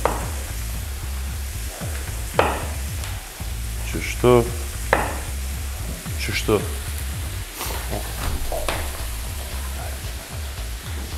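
Potatoes fry in a hot pan during a home cooking show, giving a steady, close sizzle with occasional stirring clatter while a person talks over it.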